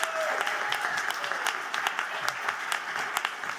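Crowd applause with some whoops from the audience at a science comedy debate as comedian Toby Halligan is introduced, dense clapping filling the whole stretch.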